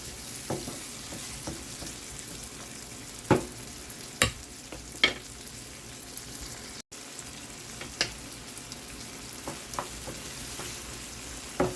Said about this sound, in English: So let that saute for about a minute or two